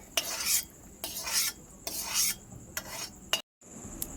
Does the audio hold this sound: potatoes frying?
yes